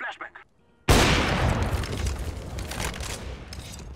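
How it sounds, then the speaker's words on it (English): A flashbang grenade going off in the video game CS:GO, a sudden loud bang that cuts in after brief quiet and decays into a long, wide hiss of noise lasting several seconds. "Throwing a flashbang."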